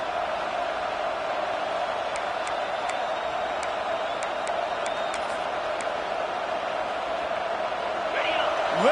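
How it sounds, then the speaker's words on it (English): A large video game football stadium crowd roars steadily in a big open space, a constant wash of cheering with occasional whistles above it. "Listen to this crowd just shaking the girders of this place, trying to help their defense."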